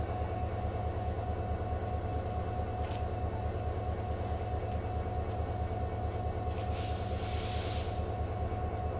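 A DEMU train pulls into a station near Medchal on the Kacheguda–Nanded route, giving a steady, constant rumble with a brief high wheel squeal near the end and no talk.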